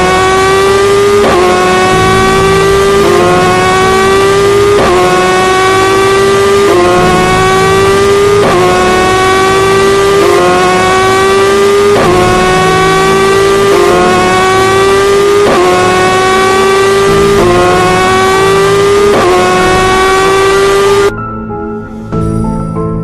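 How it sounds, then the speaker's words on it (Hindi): Motorbike engine from the Mr Meat Android horror game, heard starting and riding off, with loud, steady rising rev sweeps repeating about every second and a half before the engine cuts off near the end. "बाबा गुल्ली को अपनी बाइक पर बैठाते हैं और वहाँ से बाइक स्टार्ट करके स्टाइल मारते हुए निकल जाते हैं"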